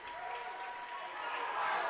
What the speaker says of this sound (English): Judging off the Rams clapping,